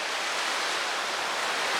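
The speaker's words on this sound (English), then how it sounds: "It's nice also to hear the crashing waves." Ocean waves crash and wash in a dense, steady roar of broadband surf, loud and unbroken, with no voices heard.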